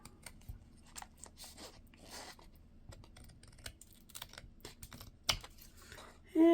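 Scissors trim a thin paper strip for a bookmark, a series of faint close snips and crisp cuts, irregular and quiet, ending in a louder rustle and clatter.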